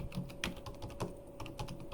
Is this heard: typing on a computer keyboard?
yes